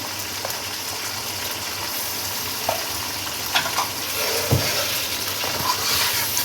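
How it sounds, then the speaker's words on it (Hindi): Mutton frying with garlic-ginger paste and small cardamom: a loud, continuous sizzle close by, with occasional stirring scrapes and soft knocks, and no talk. "अब गोश्त को लहसुन अदरक के साथ भून लें।"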